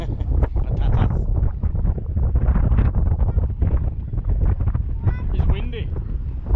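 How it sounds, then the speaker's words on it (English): Gusty wind buffets the microphone on a Barcelona outing, a loud, continuous low rumble with irregular thumps throughout, while people talk underneath. "It's windy."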